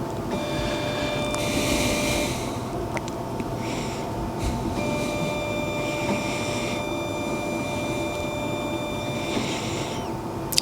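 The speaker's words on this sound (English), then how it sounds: "Place it in the machine and run on quick mode." A Finecare Pro DX analyzer runs a test in quick mode, giving a steady mechanical hum with faint tonal whines and a few soft clicks and brief bursts of whirring, heard close and alone.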